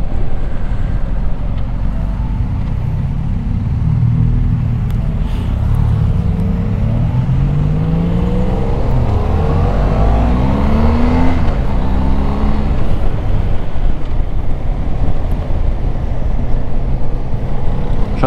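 Several motorcycles ride together along a country road, a steady engine roar with rising and falling revs as the bikes shift and accelerate, loud and close throughout with no talking.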